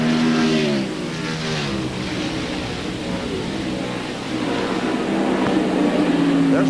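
NASCAR stock cars race at Watkins Glen in 1997, engines roaring and shifting pitch as they pass in close traffic, with a commentator talking over the sustained engine noise.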